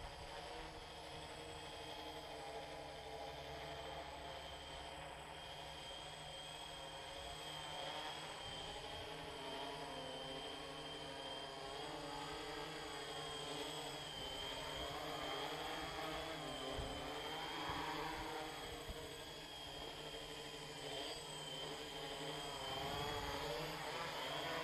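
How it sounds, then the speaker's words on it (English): A pentacopter drone with 10-inch plastic propellers on its first flight gives off a steady, fairly quiet motor-and-rotor whir that keeps running with slight pitch swells, close by and with no talk. "It's quiet though for 10 inch props and they're plastic."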